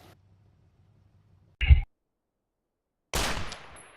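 Rifle fire in the tactical shooter Project Reality: two sharp, loud gunshots about a second and a half apart, the second trailing off in a short echo, with near silence between them.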